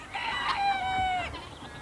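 Farm chickens being fed bread give a single loud, drawn-out crowing call close by, heard alone without talk.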